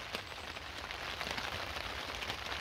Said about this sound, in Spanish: Y se vino la lluvia, amigazos.